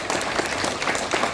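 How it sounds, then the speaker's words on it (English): A dense burst of audience applause fills a career event hall, with steady close clapping from many hands throughout. "A big round of applause for."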